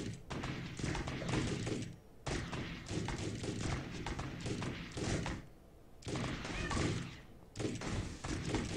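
Heavy, roaring cannon blasts in a game, several long booming bursts separated by short gaps, loud and close.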